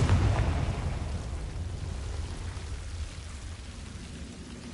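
A Confringo spell explosion in Hogwarts Legacy lands as a soft burst that quickly fades into a long, rumbling, crackling tail, fairly quiet overall.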